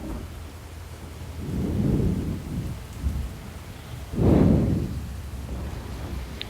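Thunder follows a big lightning strike in a tornado-producing storm, rolling in as two deep, rumbling swells over a steady hiss of rain.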